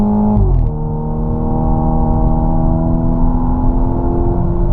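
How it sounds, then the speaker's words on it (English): The engine of a 2013 Dodge Dart revs steadily upward, a loud, close mid-pitched drone whose tone climbs smoothly through the RPM range after a brief dip at the start. "It climbs up that RPM with no trouble at all."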